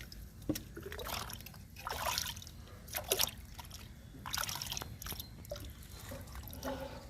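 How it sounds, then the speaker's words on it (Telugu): Liquid groundnut-cake fertilizer being strained and poured into a bucket, heard as a close, continuous trickle with intermittent drips and splashes, no voices. "ఇప్పుడు బకెట్లో వాడిపోస్తున్నా"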